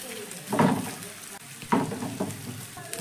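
Beaten egg bhujia being stirred in a frying pan for a snack filling, with a steady sizzle and two louder bursts of scraping and stirring about a second apart.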